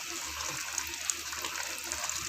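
Thin flour-and-water batter poured gradually into a pot of cooking mustard greens for sarson ka saag, giving a steady, close liquid pour with a soft hiss throughout and no talking.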